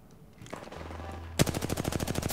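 Video game gunfire erupts in a rapid, loud burst of repeated automatic shots after a rising ambient rumble, each report sharp and evenly spaced, with no talk over it.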